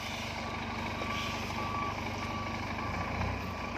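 A Scania P410 truck reverses with its backup alarm sounding, a steady engine drone filling the background and faint high tones running throughout, with no talking over it.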